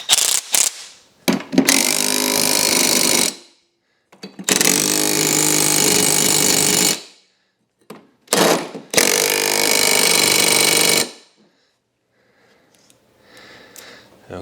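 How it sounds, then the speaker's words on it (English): An impact wrench fires in several loud bursts of hammering, each two to three seconds long, separated by short pauses. A voice is heard in the quiet gaps. "But impact wrenches changed everything."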